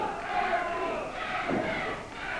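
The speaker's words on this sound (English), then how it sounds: "And again, the crowd picking up." A wrestling arena crowd at a Championship Wrestling from Florida bout roars and cheers in a steady, dense wash of voices, swelling slightly at moments, with no other sound above it.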